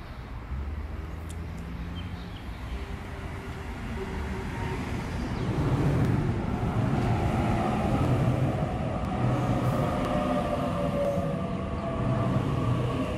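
An 8-car Waratah Series 1 train rolls into a Sydney suburban station platform on a Hornsby-only service. A steady rumble and rail noise grows louder midway and holds near and continuous.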